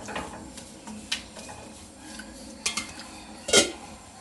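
A spoon stirs Kerala-style banana thoran in a cooking pan, giving irregular clinks and scrapes against the metal with a sharper knock near the end, close by and fairly quiet, no voice.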